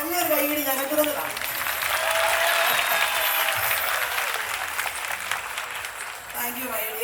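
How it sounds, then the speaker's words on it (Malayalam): Sustained applause from a crowd of students at a college campus film promotion, dense and steady for several seconds, with a voice faintly present underneath. "നല്ലൊരു കൈയടി ഞങ്ങൾക്ക് കാണാം"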